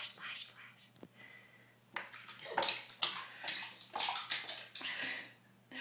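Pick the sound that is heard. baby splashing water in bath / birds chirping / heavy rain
baby splashing water in bath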